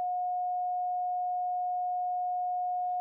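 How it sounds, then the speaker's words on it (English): A single steady pure tone holds at one pitch for about three seconds, smooth and unwavering, then stops with a small click. "the sine wave is kind of a smooth, gentle sound, not piercing, not too harsh"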